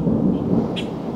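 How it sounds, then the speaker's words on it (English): Thunder from a thunderstorm rolls outdoors as a deep, continuous low rumble, close and fairly loud, with a faint hiss of rain behind it and no voices. "I actually love thunderstorms, so I hope it rains on me"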